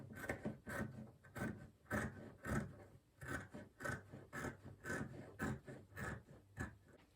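Scissors cutting through trouser fabric, a steady run of about fifteen close, rhythmic crisp snips, quiet and with no talking.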